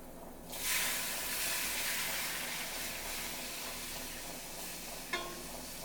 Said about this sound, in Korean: 이제 육수 아까 끓여놓은 멸치 육수를 부어주세요